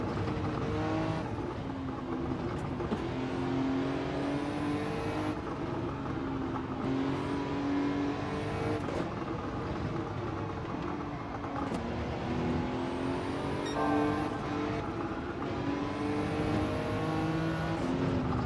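Race cars in Gran Turismo 7 drone steadily with revving engine tones that rise and fall as gears shift, sustained throughout at moderate volume with no talk.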